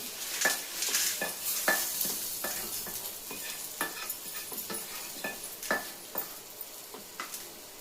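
Spices frying in a pan for Udupi-style sambar powder, a steady sizzle with repeated scraping and clinking strokes of a spatula stirring at a regular rhythm, close and moderately loud, with no talking.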